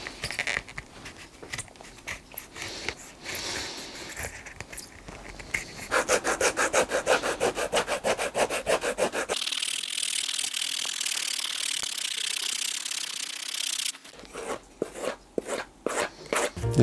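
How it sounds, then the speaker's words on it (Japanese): The bottom of a shoe is shaved down during shoemaking with rapid, rhythmic rasping strokes, close and steady. A denser, continuous scraping pass comes midway before the quick strokes return. "これ削っていきます。"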